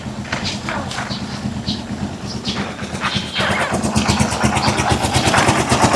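A Rusi Chariot 175 motorcycle engine idling steadily by the roadside near a highway, a low rhythmic chugging that grows louder and busier partway through.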